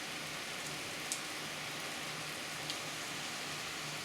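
Steady, heavy rain pouring down on a farm, a dense even hiss with occasional louder drops and a faint low hum underneath, no voices.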